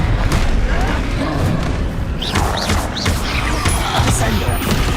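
Confringo fire spell blasts in Hogwarts Legacy on PS5, heavy booming thuds and crackling impacts layered over busy combat noise, loud and close, with several hits across the stretch.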